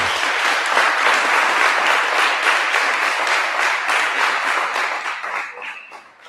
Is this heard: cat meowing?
no